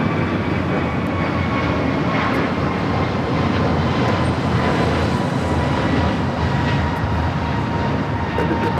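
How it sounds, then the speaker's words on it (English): A Delta Airlines jet roars continuously while taking off from LAX, a loud, broad engine rumble that stays strong for the whole stretch with no talking. "Delta Airlines 9960 taking off to Boeing Field"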